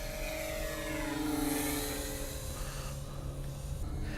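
A B-17 bomber's propeller engines drone in flight in a video game, a steady loud buzzing hum with shifting tones that pulls back slightly toward the end.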